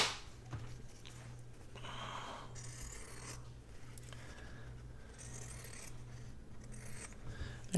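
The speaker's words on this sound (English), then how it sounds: "These are just some pinking shears that I got from Amazon." Pinking shears snipping through paper in a few short bursts of crisp cutting, close up and fairly quiet against a low background hum.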